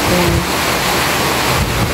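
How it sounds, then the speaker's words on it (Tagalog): Heavy rain pours down with gusting wind in a steady, loud, dense roar that fills the whole moment with no pauses. "Lumalakas na po yung ulan. And dito po yung ano, hangin."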